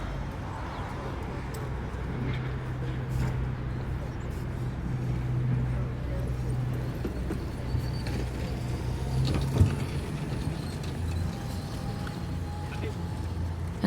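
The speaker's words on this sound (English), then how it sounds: "I hear cars and bikes and people passing by" Busy street traffic at King's Cross in London, with cars, bikes and people passing, forms a steady, moderate urban rumble while a person talks over it throughout.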